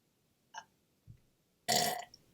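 A single loud, raspy human burp lasting about half a second, preceded by two faint short vocal sounds, in a quiet room.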